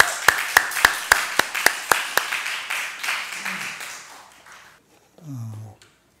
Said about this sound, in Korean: 지금 우리 이민교 선교사님 우리 박수로 한번 환영하겠습니다